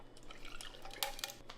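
About three ounces of water pours into a cocktail shaker over ice and muddled ingredients for a mocktail, a short, close splashing trickle with a few drips.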